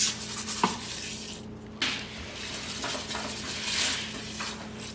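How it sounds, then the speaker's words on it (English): Spoon working through a pot of pumpkin puree, pumpkin pie spice and steel cut oats, soft scraping and thick wet stirring with a couple of light metallic knocks against the pot, close and quiet. "Now I'm just gonna give this a really good stir."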